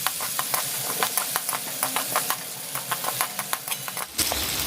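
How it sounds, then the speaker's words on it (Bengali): Chopped onions fry in hot oil with whole spices and dried red chili, giving a close hissing sizzle broken by regular sharp clicks and scrapes of a spoon stirring the pan. "কাটা পেঁয়াজ দিয়ে পেঁয়াজটাকে ভালো করে লাল লাল করে ফ্রাই করে নেবো"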